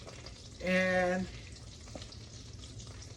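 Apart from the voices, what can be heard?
butter and oil sizzling in a skillet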